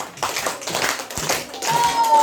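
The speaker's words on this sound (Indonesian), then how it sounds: "kita berikan 5 kali tepuk pujian." A school class clapping five claps of praise in a classroom, a quick run of close, sharp hand claps in a rough rhythm, loud against a quiet room.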